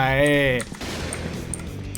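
A voice speaks briefly, then scattered bursts of rifle fire from the shooter game Point Blank crackle at moderate loudness through the rest, with an AUG or Kriss among the weapons.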